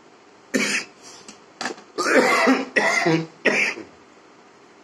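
A man coughs in several harsh bursts, followed by a rough, throat-clearing fit and a few more coughs, all fairly close and with no talk in between.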